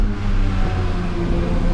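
A 992 Porsche GT3 engine drones loudly and steadily inside a tunnel, its layered low harmonics holding at high revs with a dense, sustained roar and no break, no voices over it.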